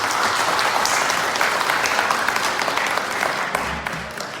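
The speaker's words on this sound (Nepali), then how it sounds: "एकचोटि ताली बजाइदिन अनुरोध गर्दछु" Audience applause for a singer at a live concert in Lubbock, Texas, a dense, steady wash of clapping from a large crowd that fills the whole stretch and eases slightly near the end.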